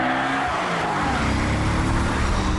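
An Audi RS4 with a 4.2-litre V8 of 420 hp and Quattro all-wheel drive is being driven, its engine droning loudly and continuously with a steady roar throughout, no voices.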